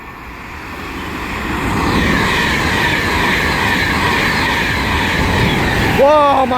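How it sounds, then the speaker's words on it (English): A Virgin Trains Pendolino on the West Coast Main Line at South Kenton rushes past with a rising, sustained rumble and rail clatter. A horn sounds sharply near the end. "we have another Virgin Trains Pendolino passing by for London Euston"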